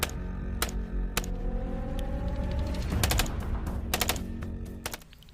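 A toy M4 rifle fires off several short bursts of rapid mechanical clicks and rattles, close and fairly loud, with quieter mechanism noise between the bursts.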